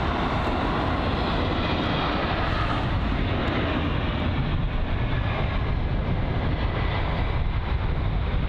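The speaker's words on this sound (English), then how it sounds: "there's the Air China 777 making its way now" An Air China Boeing 777 moving at London Heathrow, its jet engines a loud, constant broadband roar that holds steady throughout with no gaps and no voices.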